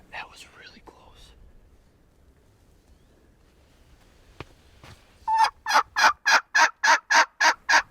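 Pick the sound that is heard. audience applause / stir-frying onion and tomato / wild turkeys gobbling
wild turkeys gobbling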